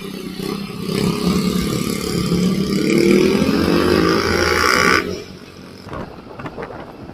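A 150cc FKM Labi 150 scooter engine runs loudly with a rising whine, as if revving, then cuts off abruptly near the end, leaving quieter background noise.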